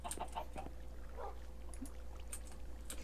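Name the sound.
chickens clucking in Minecraft video game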